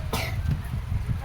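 A single cough bursts out near the start, followed by low murmuring room noise, in a home setting.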